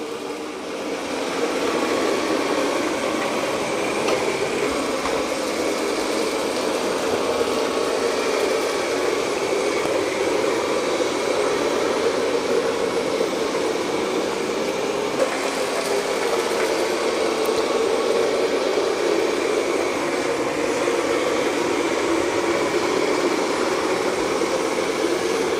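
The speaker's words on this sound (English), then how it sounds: "now it's back to mopping and vacuuming the hardwood floors." A Roborock Qrevo Master robot vacuum and mop works across hardwood floors with a steady, even motor whir that holds constant for a long stretch, close and moderately loud, with no talking over it.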